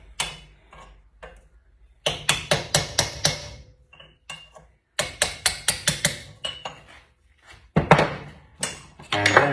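Sharp metallic hammer taps strike a Honda Goldwing motorcycle part in quick bursts of five or six evenly spaced blows, separated by short pauses, close and fairly loud.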